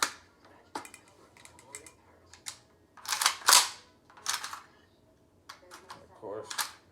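Metallic clicks and snaps from a magazine being handled and locked into a VSKA rifle, a handful of sharp close clacks spread unevenly, with someone talking quietly between them.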